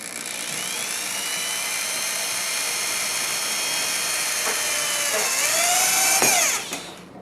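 A power drill drives a 1.5 inch screw through a shim into a saddle tree with a sustained high-pitched whine that holds steady, then rises near the end as the screw seats and stops.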